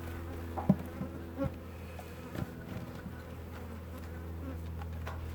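Honeybees buzz faintly around a brood frame set in the centre of a hive that failed to raise a new queen after swarming, a soft steady hum with a few light knocks.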